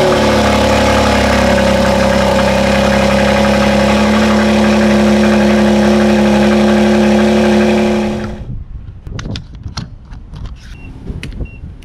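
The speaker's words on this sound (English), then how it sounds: "a cold start on the X3M" A BMW X3 M cold-starts with a loud bark into a high, steady fast idle that holds for about eight seconds before cutting off abruptly, leaving a few faint clicks and knocks.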